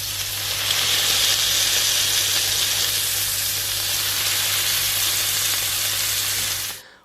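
Seasoned burger patties sizzle steadily while frying in a pan, a loud, even hiss that holds for several seconds before cutting off abruptly at the end.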